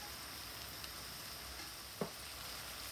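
Carrots, celery, onion, chili and garlic frying in a pan with mince, a steady close sizzle with a single brief knock partway through.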